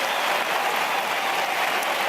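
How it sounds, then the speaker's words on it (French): A tennis crowd at the 2007 Roland Garros final applauds steadily, a dense wash of clapping from a large stadium audience, sustained and even throughout. "Ils peuvent applaudir effectivement après 3 heures de jeu."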